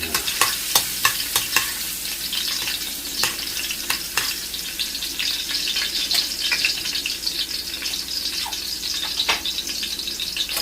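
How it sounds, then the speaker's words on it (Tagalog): Garlic sautéing in oil for a palabok sauce, a steady near sizzle broken by sharp clicks and scrapes of a utensil stirring in the pan. "Magigisa na tayo para sa ating masarap na sauce na palabok. Lalagyan natin ng bawang natin."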